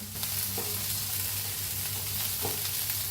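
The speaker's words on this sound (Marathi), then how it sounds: "तेल घालून भाजून घेऊया आणि जरा मस्त असा कांदा आणि खोबरं भाजलंय" Onion and coconut roasting in hot oil in a pan, a steady close sizzle and crackle throughout with a couple of brief stirring scrapes, no talking.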